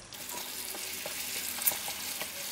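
Srundeng of shredded beef and spices fries in a pan, a continuous close sizzle broken by regular scraping taps of a spatula as the mixture is stirred, with no voices.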